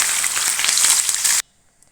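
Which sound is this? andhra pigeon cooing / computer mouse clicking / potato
potato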